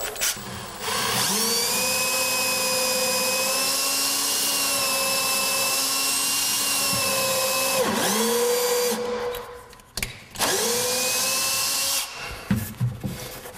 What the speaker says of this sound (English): my drill has room to move and I can go straight down here.